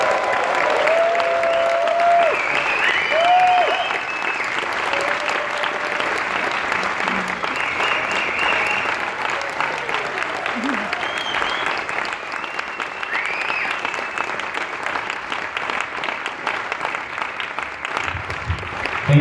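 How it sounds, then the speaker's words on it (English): A crowd at a main-stage drum show applauding and cheering loudly and continuously, with scattered whoops over dense clapping that fades slightly toward the end. "Give it up, please. Make some noise for the one, the only Jimmy Chamberlin."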